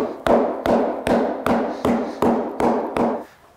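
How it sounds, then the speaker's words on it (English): A hammer taps down lumps on a leather ground seat during saddle making, striking eight evenly spaced, sharp thumps, each with a short ringing decay. "Get a hammer and tap down all these"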